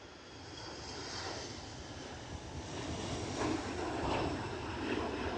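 An airliner takes off at Edinburgh Airport in gusty 40 mph wind, its engines a steady broadband roar that swells slightly toward the end, with wind noise throughout.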